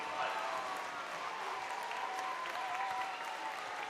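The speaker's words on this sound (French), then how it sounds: "on peut les applaudir bien plus fort que ça" A standing audience at a New Year's civic event applauds, a continuous even wash of clapping held at a moderate level, with a voice faintly audible underneath.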